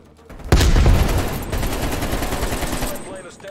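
A sudden burst of automatic gunfire in Call of Duty Black Ops Cold War, one loud shot followed by rapid sustained firing that tapers off over a few seconds.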